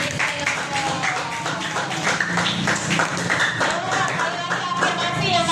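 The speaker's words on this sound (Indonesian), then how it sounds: "Ya, kita aplaus buat Ibu." A class of students claps together for their teacher, steady overlapping applause under scattered voices and chatter throughout.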